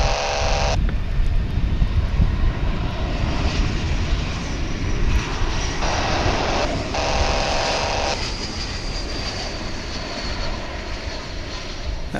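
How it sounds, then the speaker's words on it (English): Jet airliner arriving at DFW International Airport from Oklahoma City, a loud continuous engine roar with shifting whine, close and steady throughout, no voices. "That flight's coming in from Oklahoma City there"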